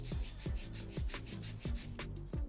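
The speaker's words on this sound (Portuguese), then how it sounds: "vamos limar a parede lateral inferior" A nail file rasps back and forth along the lower side wall of a fingernail in short, even strokes, about five per second. The scraping is close and faint, with no talking.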